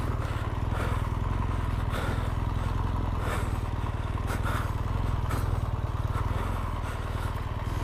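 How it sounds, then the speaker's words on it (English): Big motorcycles labor through deep sand with a steady, rumbling engine drone and faint clattering throughout, close and continuous. "it's so hard on these big bikes in this deep sand"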